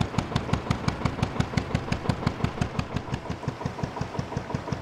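Narrowboat diesel engine running hot, a steady rhythmic thudding idle with evenly spaced firing pulses, close and fairly loud, with no voices over it.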